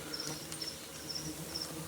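A strong colony of Canudo Cara Amarela stingless bees hums with a steady dense buzz, close and constant, with faint high chirping tones repeating over it.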